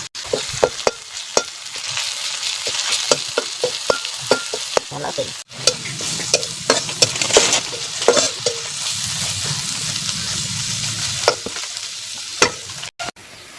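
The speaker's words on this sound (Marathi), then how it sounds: "असा गव्हाळा कांदा भाजायचा." Onion roasting in a pan for a rustic Maharashtrian maswadi, a soft continuous sizzle with frequent sharp scraping clicks of a spatula stirring, close-up and without any voices.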